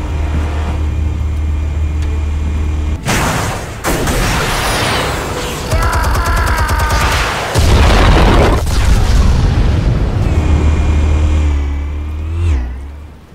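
Explosives detonate in Batman: The Telltale Series, a sudden loud blast that cuts through a low engine-like rumble, followed by crackling, rushing debris and further bursts.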